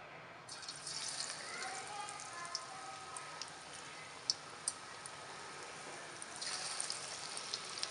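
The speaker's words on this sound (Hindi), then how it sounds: "ऑयल गर्म हो चुका है, हम पकौड़े फ्राई कर लेंगे." Aloo palak pakoras fry in hot oil with a soft, steady sizzle and scattered crackling pops, fairly quiet, while someone talks over the frying.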